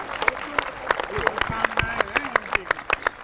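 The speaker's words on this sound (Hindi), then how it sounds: "ताली बजाइए, ताली बजाइए।" Audience clapping at a Hindi poetry gathering, a scattered burst of claps over a murmuring crowd, with someone talking over it.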